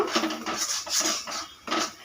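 A spatula scrapes and clinks against a pan while stirring a prawn filling for stuffed taro, in a few quick close strokes with no voices.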